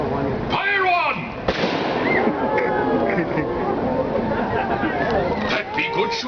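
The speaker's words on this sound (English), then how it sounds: "for the cannon she be a mite loud" A cannon fires aboard Disneyland's Sailing Ship Columbia, a single sharp boom early on, followed by continuous crowd chatter and voices on deck.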